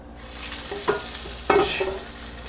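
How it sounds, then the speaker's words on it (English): Crab cakes saute in a hot pan, a soft steady sizzle broken by two sharp scraping clatters of a utensil against the pan. "We're going to saute the crab cakes."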